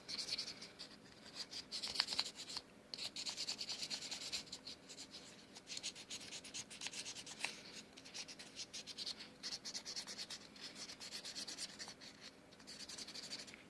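A tobacco pipe is wet sanded by hand in a restoration, giving a faint, continuous rhythmic rubbing and scratching with soft repeated strokes throughout.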